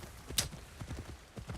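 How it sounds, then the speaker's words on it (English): Horse hooves clip-clopping at a steady walking rhythm while riding in the video game Assassin's Creed Shadows, soft regular thuds, moderately close and quiet, with one sharp brief click near the start. "alright, riding on a horse, seeing the nice physics of trees"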